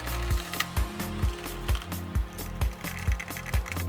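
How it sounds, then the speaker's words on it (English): Ratcheting screwdriver tightening the base fixing screws on a HOROW T37 smart bidet toilet seat, a steady run of close, crisp mechanical clicks in a regular rhythm with no voices. "Tighten the base's fixing screws again."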